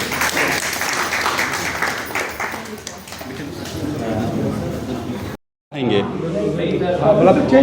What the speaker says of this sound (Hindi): चलिए तालियां